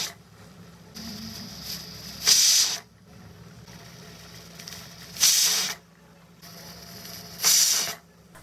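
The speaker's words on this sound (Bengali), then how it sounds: "প্রেসার কুকারে পরপর বেশ কয়েকটি ছিটি পড়েছে।" A pressure cooker on the stove vents its whistle while tomato ketchup cooks inside, giving three loud, hissing steam bursts spaced a few seconds apart over a quieter steady hiss.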